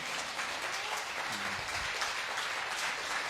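A church congregation claps at a healing service, a full, steady wash of many hands that continues without a break, with a faint voice briefly audible beneath.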